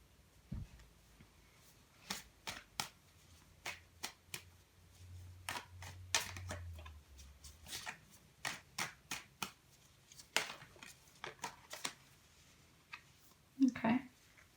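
Animal spirit oracle cards shuffled by hand in a quiet room, a series of crisp, close riffling snaps at irregular intervals with a soft thump at the end.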